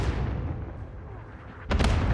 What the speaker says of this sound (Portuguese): Os caras tá atirando na outra